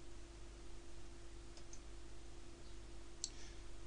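A computer mouse clicking in Flash CS4, two or three faint, sharp clicks spaced apart over a quiet hum, with no talking.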